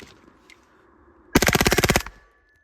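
A suppressed MP5K fires a short, rapid burst of about a dozen evenly spaced shots, loud and close, followed by quiet.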